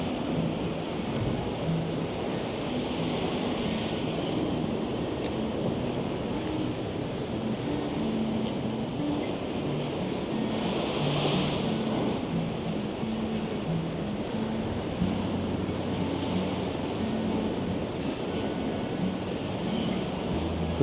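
Stormy sea at the harbour wall in Porthleven, Cornwall, with waves surging and crashing amid high wind, a continuous loud roar with heavy wind buffeting on the microphone and a stronger crash near the middle.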